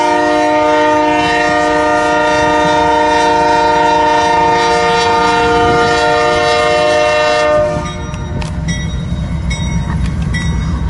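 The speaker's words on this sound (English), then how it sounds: "Westbound grain train came up." A BNSF westbound grain train passes in freezing weather, its horn blaring in a loud sustained chord for several seconds before cutting off, leaving rumbling wheels and clattering cars rolling by close.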